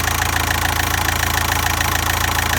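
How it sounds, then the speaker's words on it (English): TDI diesel engine idling with aerosol sprayed around the intake to find an air leak, a loud close rapid knocking clatter in an even rhythm, with no talking. "Listen to the engine change."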